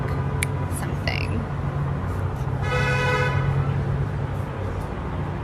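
Car horns honk near the Capitol during a street protest against a stay-at-home order, short toots and one longer blaring honk sounding over steady traffic noise and rumbling crowd ambience.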